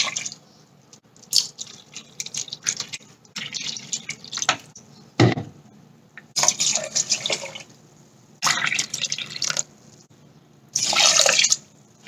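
Water poured into a pot for nasi lemak coconut milk rice, heard as several separate splashing, running bursts with quiet gaps between them.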